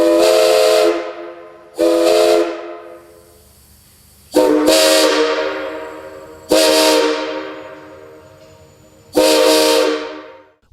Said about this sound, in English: the whistles were tested on air to make sure they both performed as predicted